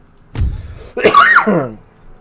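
A low throaty grunt is followed by one harsh, close cough that trails off into a rasp.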